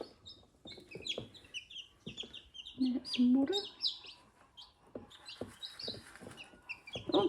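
Chicks cheep in high-pitched chirps while a hen clucks softly nearby; a person speaks briefly among the calls.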